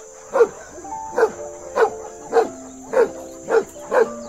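A dog barks in a steady series of seven evenly spaced woofs, clear and close, with no talking over them.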